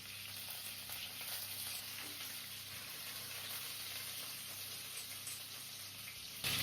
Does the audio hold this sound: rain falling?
no